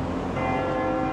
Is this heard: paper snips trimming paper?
no